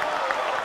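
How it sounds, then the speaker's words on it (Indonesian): Brief burst of audience applause for Indonesia's presidential candidates at a 2024 election debate, a dense steady patter of many hands filling the hall. "kita berikan tepukan yang paling meriah untuk para calon pemimpin Indonesia"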